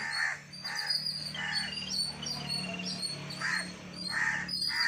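Several harsh caws from a crow ring out at intervals over a steady outdoor hum, moderately distant.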